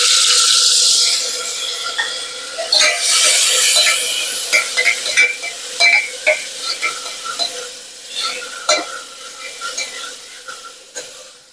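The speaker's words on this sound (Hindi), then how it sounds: "और ये 1 बड़ा टमाटर है जो मैंने बारीक काट लिया, ये मैं इसमें डाल रही हूँ।" Red chillies and a finely chopped tomato drop into a hot pan for bisi bele bath, with a loud hiss at first that settles into gentle sizzling and repeated clinks of a spoon stirring.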